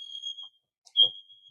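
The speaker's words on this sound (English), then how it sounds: "Set the fire alarm off." A household smoke alarm set off by a false alarm gives short high-pitched electronic beeps, one brief chirp and then another after a pause, with a faint thump between them.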